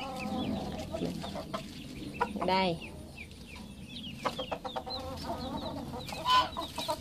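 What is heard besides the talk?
young chickens clucking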